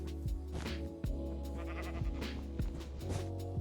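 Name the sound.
sheep bleating in Minecraft video game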